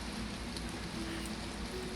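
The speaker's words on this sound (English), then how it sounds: "It's raining now." Rain falling outdoors, a dense, even hiss of drops hitting surfaces, constant and fairly faint throughout with a faint low hum beneath and no voices.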